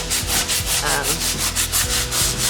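Sandpaper is rubbed by hand across a garage wall in quick, rhythmic back-and-forth strokes, each scrape close and distinct, about a dozen passes in a brief burst.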